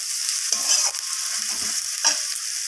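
Spices frying with tomato and capsicum in a pan, a constant bright sizzle broken by a few scraping stirs of the spatula, close and loud, without speech.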